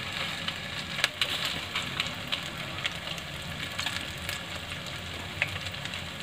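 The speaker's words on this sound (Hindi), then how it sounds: "इसी तरह से हम अपनी सारी बॉल्स डालकर इनको गोल्डन ब्राउन होने तक का फ्राई कर देंगे" Maggi Manchurian balls deep-frying in hot oil, a steady broadband sizzle with occasional sharper crackles and pops, close and continuous with no voices.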